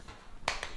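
A couple of sharp hand claps close by, one strong clap followed by a fainter second, while a balloon is kept aloft indoors during a tennis-at-home exercise.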